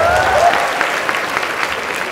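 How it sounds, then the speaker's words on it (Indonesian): Applause from a seated audience at a student event, honouring the student executive board president Agung Luki Pradita; a dense, steady wash of many hands clapping close by, fading slightly toward the end. "Beri tepuk tangan untuk Bung Agung"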